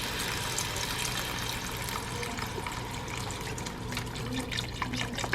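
Chicken broth pours steadily from a box into a soup pot over softened onions for zuppa toscana, a continuous close splashing gush that thins toward the end.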